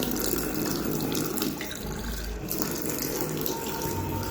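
A tap runs steadily for drinking, water splashing continuously and loudly close by without pause, with no voices over it.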